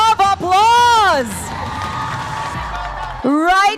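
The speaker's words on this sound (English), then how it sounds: "can you give our winners a big round of applause?" Esports grand-finals crowd at a live tournament awards ceremony cheering and applauding for the winners, a broad wash of claps and whoops with shouts rising over it, a loud voice coming in near the end.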